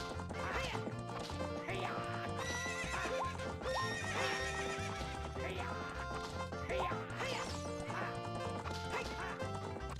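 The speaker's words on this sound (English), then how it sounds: "And I'm taking this horse." In Zelda: Ocarina of Time, Epona neighs and her hooves clip-clop at a gallop, the whinnies recurring in several bursts over a continuous melodic game soundtrack.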